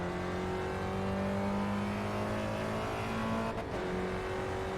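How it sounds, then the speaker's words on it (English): Spec Racer Ford Gen3 race car engine in the iRacing sim, a steady loud drone held high and pinned against the rev limiter, with a brief cut in the note near the end. "You can hear the engine cut there."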